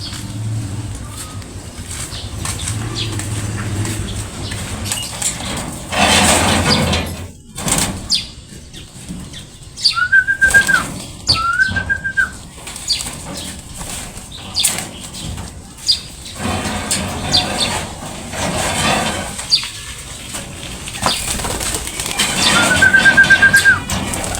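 Pigeons shooed out of a new 5x5x4 loft, with bursts of flapping wings and rustling, scattered short whistles, and a sliding-door clatter, moderately close with no talk.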